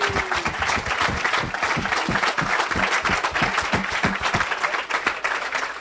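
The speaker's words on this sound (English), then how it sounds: "give all of yourselves a big round of applause" A crowd claps loudly and steadily, a dense roar of applause that carries on without a break.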